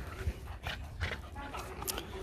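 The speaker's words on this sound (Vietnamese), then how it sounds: "12 con chó con." A litter of twelve H'Mông bobtail puppies whimpers and yips in short high bursts near the listener, several small cries overlapping at uneven intervals over a busy background.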